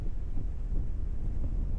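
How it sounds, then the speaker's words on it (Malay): Wind gusts across an open hilltop hiking trail at Bukit Bongol in Kota Belud, buffeting the microphone with a loud, low, continuous rumble and no voices. "Berangin."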